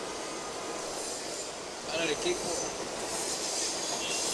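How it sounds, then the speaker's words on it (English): A night train passes in the background during a live NYC baseball broadcast, a steady rail rumble with a brief wheel squeal midway, under Spanish play-by-play commentary. "That noise you hear in the background, the night train."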